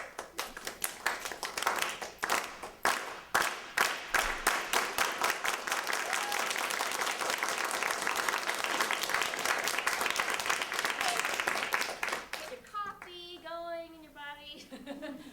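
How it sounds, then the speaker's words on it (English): A conference audience performs a unity clap, hands clapping together in slow separate beats that speed up into rapid, continuous applause, then fade as a voice begins talking. "We usually close that off with a unity clap."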